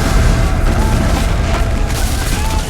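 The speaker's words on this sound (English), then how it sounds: "Cannons and small arms blast the attacking rebels" Cannon and small-arms fire in a Civil War battle at Gettysburg, a dense, loud rolling boom of blasts and crackling shots with no clear gaps.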